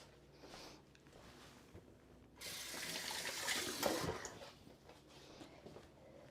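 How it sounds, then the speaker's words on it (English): Water poured from a tap into a pan of homemade red enchilada sauce in a kitchen, a loud splashing pour of about a second and a half rising over quieter background clatter. "that needs a drop more water"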